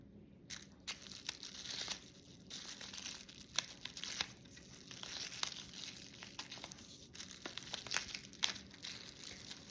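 Small plastic bag crinkling and rustling as it is wrapped around a bundle of fresh curry leaves, close and continuous with sharp crackles throughout, no talking.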